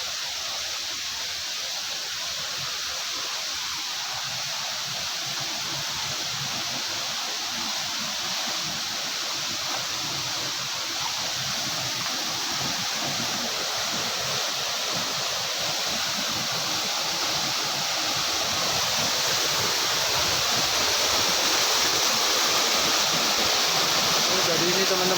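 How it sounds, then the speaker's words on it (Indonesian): The Granjangan waterfall pours in a steady, loud rush of water that swells slightly louder toward the end. "untuk air terjun yang kedua"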